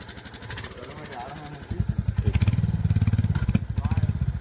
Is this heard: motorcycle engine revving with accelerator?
yes